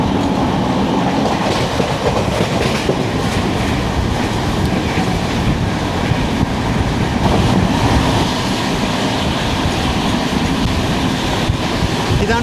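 A Kozhikode–Thiruvananthapuram Jan Shatabdi Express with new LHB coaches runs past at speed, loud and close, with a sustained rolling rumble and rhythmic clickety-clack of wheels over rail joints.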